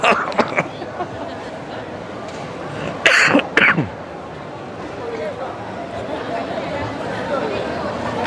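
A short burst of two close coughs midway through, over a steady murmur of background voices and room noise.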